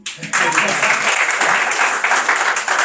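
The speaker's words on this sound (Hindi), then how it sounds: "ताली बजाओ यार।" Steady audience clapping at a Hindi poetry recitation, a dense, continuous burst of many hands that starts abruptly and holds at full strength to the end.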